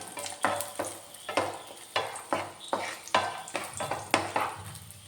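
Cashew nuts and raisins fry in ghee in a pan. A lively sizzle rises and falls with regular stirring strokes and light scrapes of a spoon against the pan.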